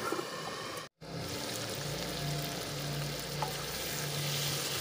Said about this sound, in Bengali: মশলাটা ভালো করে কষিয়ে নেব 2 থেকে 3 মিনিট